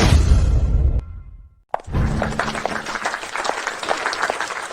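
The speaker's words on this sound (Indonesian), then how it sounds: "Mohon berikan dia tepuk tangan." An audience applauding, a dense wash of clapping that cuts off briefly, then after a sharp swish resumes as steady, lively clapping to the end.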